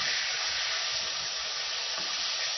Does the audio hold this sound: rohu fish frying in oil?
yes